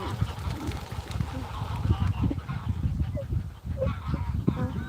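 Geese honk outdoors on a sunny day in open natural surroundings, calls scattered over a steady busy background of outdoor noise.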